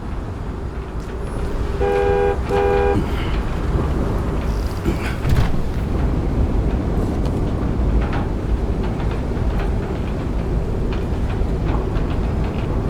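Car horn in a New York street scene from the video game Nobody Wants to Die, a few short close honks from behind over a steady low traffic rumble, with a single louder blast a moment later.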